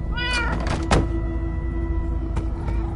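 A cat meows in the Minecraft Story Mode video game, one clear rising meow near the start, followed by a soft thunk and a second faint meow later over a steady hum.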